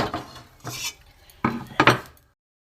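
A few metallic clanks and scrapes of a pan being set down on a gas stove while cooking cauliflower roast, two separate clusters of knocks, close and fairly loud.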